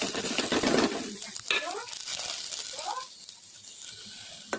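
Vegetables frying in oil with cumin seeds and bay leaf, a broad crackling sizzle that is loudest at the start and then settles, with scraping stirs of a spoon in the pan, close by.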